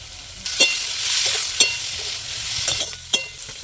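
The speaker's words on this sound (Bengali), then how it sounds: "মশলা শুদ্ধ সব কিছু ভাজা ভাজা হয়ে গেছে" Spice paste of ground ginger and chili, with salt and turmeric, frying in a pan for a koi fish curry: a steady close sizzle, broken by three or four sharp scraping stirs.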